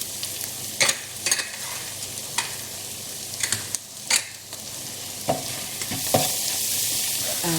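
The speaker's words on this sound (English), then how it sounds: "stir this for about a minute or so" Softened golden onions and freshly added ground spices fry on a medium flame, a close, steady sizzle broken by several sharp scraping stirs of a spoon against the pan.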